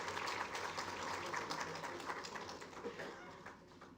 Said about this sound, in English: Let's have a huge round of applause, ladies and gentlemen.